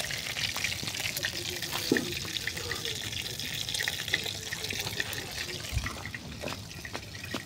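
Fish fries in fish oil in a pan. A continuous close sizzle runs throughout, with scattered sharp pops and crackles.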